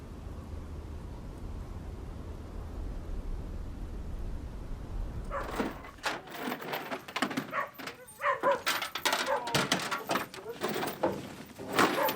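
Many dogs bark and yelp in a crowded animal shelter, a dense, echoing chorus that starts loud about halfway in after a low hum, with short bursts overlapping continuously.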